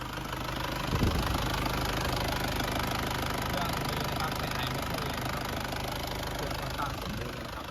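A 1996 Isuzu TFR SLX pickup's engine runs steadily and fairly loud, with a continuous mechanical drone and a brief knock-like bump near the start.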